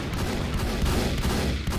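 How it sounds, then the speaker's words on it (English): Deck guns and cannons fire continuously during a zeppelin battle in a video game, a dense, steady barrage of overlapping gunfire with no gaps and no talking. "I think we just have more deck guns firing than they do."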